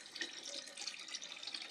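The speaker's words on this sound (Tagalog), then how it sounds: "Lumalabas sa gripo, oh." Cloudy, murky water runs from a household tap in a steady, close, gentle stream, splashing softly with no talk over it.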